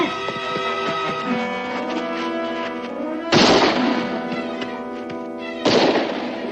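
Two sharp gunshots ring out in a frontier western scene, each a loud close crack with a ringing tail, over a steady bed of orchestral music.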